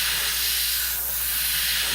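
Airbrush blowing plain air to dry freshly sprayed paint on a scale model, a steady close hiss lasting throughout, alone with no talking.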